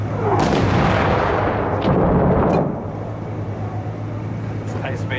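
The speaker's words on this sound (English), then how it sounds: "Mortars to the west. Mortars, incoming!" Mortar fire in the video game Six Days in Fallujah: heavy booming impacts and blasts rumble up close at the start, then give way to a lower, steady battlefield drone.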